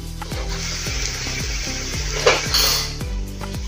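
Semolina and rice flour snack being stirred in a pan, a utensil scraping and clinking against the metal in a steady rhythm of strokes, close up, with a faint sizzle underneath and a brief louder scrape midway.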